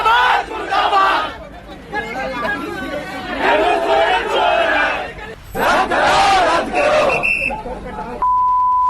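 Students chant and yell slogans against the Soren government at Ranchi railway station in loud rhythmic waves with a brief lull between, and a steady electronic beep sounds at the very end.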